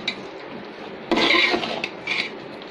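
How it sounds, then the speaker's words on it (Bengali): A spoon scrapes and clinks against a pot as chicken biryani is stirred slowly, with a few separate bursts of metallic scraping over a quiet kitchen background. "তো আমি এখন দিয়ে দিয়েছি, এখন আস্তে আস্তে একটা নাড়াচাড়া করে দেবো।"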